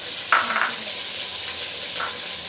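Ginger and garlic paste sizzles steadily in a hot pan, with a couple of brief louder stirring scrapes early on and near the end over a constant frying hiss.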